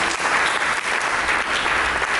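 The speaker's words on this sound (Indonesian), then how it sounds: "Berikan tepuk tangan bagi Yesus." A church congregation claps together for Jesus during a Sunday sermon, a loud, continuous wash of applause with no pause.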